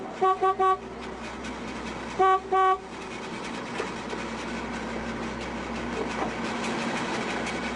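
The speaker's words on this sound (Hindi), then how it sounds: "कब से हॉर्न बजा रही हूँ" A car horn honks at a gate: two quick double toots up front and another pair a couple of seconds later, loud and close, over a steady rumbling background with no speech.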